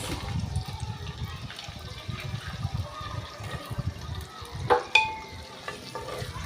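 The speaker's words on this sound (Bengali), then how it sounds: "আমি পেঁয়াজটা হালকা একটু ভেজে নেব।" Onion frying in oil in a clay pot with bay leaf and garam masala, a steady close sizzle under continuous stirring and scraping, with a couple of sharper clinks near the end.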